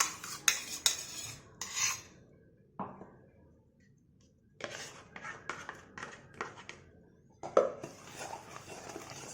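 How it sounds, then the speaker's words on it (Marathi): A spoon mixes a thick semolina cake batter with oil and yogurt in a bowl, making bursts of close clinking and scraping against the sides in irregular strokes, separated by brief quiet pauses, with no talking. "एकाच साइडला असं व्यवस्थित मिक्स करून घ्यायचं आहे"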